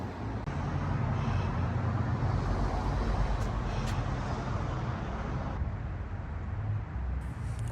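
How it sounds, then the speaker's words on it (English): Heavy trucks passing on a street in Cadillac, Michigan, a continuous loud roadway rumble with engine drone that swells and eases across the stretch, no voices clearly present. "you probably can't hear a word I'm saying because of these trucks"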